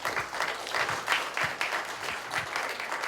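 An audience at a West Maui Taxpayer Association evening event applauds in steady, moderate clapping for about three seconds, with no voices standing out.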